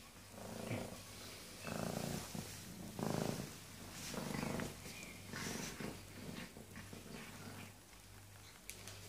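A pregnant cat purrs up close in slow, rhythmic rising and falling pulses, a steady throaty rumble lasting several seconds.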